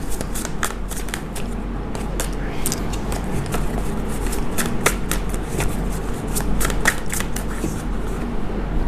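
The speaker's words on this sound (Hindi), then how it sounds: "सो दोनों ही डेक्स को हम शफल करके रखेंगे" Tarot card decks shuffled by hand during a reading, a continuous run of rapid, crisp riffling flicks close up, steady over soft background hum.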